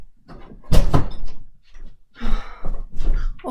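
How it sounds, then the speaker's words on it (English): A door shuts indoors with a loud, close thunk, followed by a few quieter knocks and bumps, then muffled movement and a second burst of handling noise. "Oh, wait a minute. I have to shut the door."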